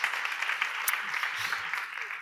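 An audience at a diabetes-focused event applauds a departing speaker: dense, steady clapping from a moderate crowd, with a voice speaking over it.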